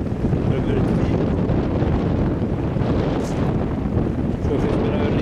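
Strong outdoor wind buffets the microphone in a constant low roar with gusty rumbling, loud and close the whole time.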